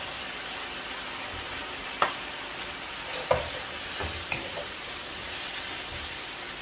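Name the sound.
frying beef for dry beef chilli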